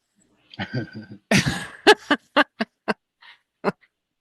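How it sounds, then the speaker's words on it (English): Dogs bark indoors in a quick series of sharp, loud barks, with a few rougher, huffing barks first and then evenly spaced single barks with short silences between them, close by and with no talking. "I don't know if you can all hear my dogs."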